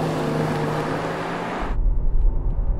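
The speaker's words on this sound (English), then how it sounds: "I'm going to launch the Brabus 700" A Brabus 700 tuned Rolls-Royce launches hard from standstill, the broad steady engine roar giving way to a deep, loud low rumble with wind buffeting as it accelerates away.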